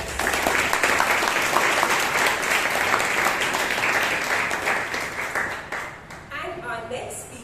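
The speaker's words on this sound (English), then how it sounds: "A big round of applause." An audience at a Toastmasters club meeting in Bangalore breaks into loud, dense applause that carries on steadily, then thins and fades near the end as a voice begins to speak.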